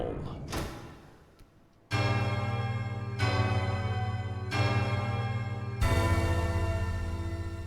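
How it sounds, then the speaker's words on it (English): A deep church bell tolls in Farloom in the Hollow Knight Silksong game, after a brief clank, then sounds four loud, evenly spaced strikes whose rich, ringing tones overlap and sustain. "finally, our third bell in Farloom begins to toll"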